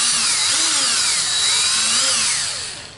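A power drill whines steadily at close range, its motor pitch sliding slightly as it bores into the center console of a 2007–2013 Chevy Silverado, loud and continuous before tapering off at the end.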